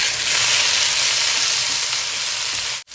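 Green chillies fry with lamb trotters in a pan, giving a loud, close, continuous hiss and sizzle that drops out abruptly near the end.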